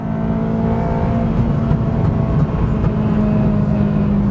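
Engine of a mapped Honda Civic Type R EP3 pulling hard and loud from inside the car, with a steady drone that continues through an early short shift between gears.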